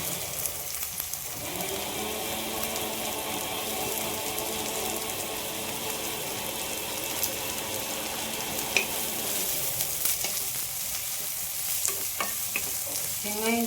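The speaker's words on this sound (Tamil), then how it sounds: "பூண்டு நல்லா கொஞ்சம் வதங்கிட்ட உடனே வெங்காயம் சேர்த்துக்கணும்" Garlic and onions sauté in a hot pan for a vendhiya kozhambu, a steady close sizzle and frying hiss running throughout with occasional scrape of a stirring spoon, no talk.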